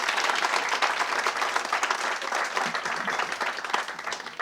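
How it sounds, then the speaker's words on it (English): A small audience at an outdoor community gathering gives a sustained round of applause for a local Blue Heron group, dense clapping that holds steady for several seconds. "Maybe give them a little round of applause"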